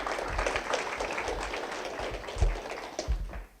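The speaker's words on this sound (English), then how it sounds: "Can we get one more round of applause," Forum audience giving a round of applause, a dense steady spread of many hands clapping at moderate level, with a few louder low thumps toward the end as the clapping trails off.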